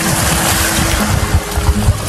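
Strong ocean waves at a beach in Lobo, Batangas: a loud, continuous broadband rush of surf and churning water, close and dense, with heavier low surges near the end and no talk.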